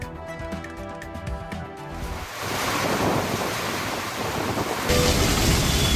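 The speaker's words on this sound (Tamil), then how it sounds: "சூறை காற்றுடன் கனமழை" Strong gusty wind with heavy rain roars as a broad, loud rushing wash that swells after a quieter opening and stays dense and continuous to the end.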